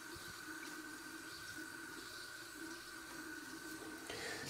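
Water running steadily from a tap into a sink, a constant hissing rush that stays even throughout, fairly faint with no talking.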